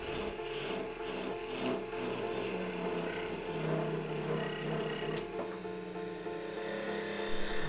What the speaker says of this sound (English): Right now I'm cutting a recess in the bottom so that I'll be able to reverse this for hollowing.